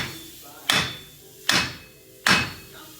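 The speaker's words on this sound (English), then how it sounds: "Usually we hammer the ball joint, just like we're doing on this tie rod." Three heavy, evenly spaced hammer blows strike a steel tie rod on a Chevy Silverado pickup's front suspension, each a loud metallic bang with a short ringing decay.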